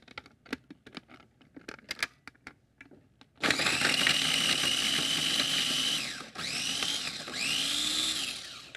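An electric chopper mincing slices of fresh ginger with garlic, a loud steady whirring buzz that starts abruptly after a few quiet knocks, briefly dips, then resumes for a second burst.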